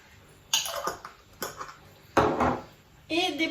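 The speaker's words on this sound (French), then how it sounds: "dans le fond de mon moule, je vais verser donc ici des graines de lin brunes, du sésame doré" Brown flax seeds and golden sesame are poured into a mould in four short, rattling bursts with quiet gaps between them, close and moderately loud.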